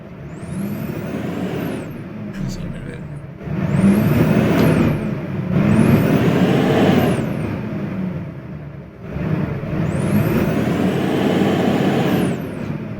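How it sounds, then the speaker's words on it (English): In Euro Truck Simulator 2, a heavy Mercedes truck engine roars and revs through several rising gear cycles, each climb in pitch ending in a brief drop before pulling again. "Got new engine sounds from Mercedes 2632."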